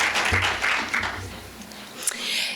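An audience at an evening 4-H public speaking contest gives a round of applause for family and friends. The moderate, steady clapping mixes with murmuring voices and fades after a couple of seconds.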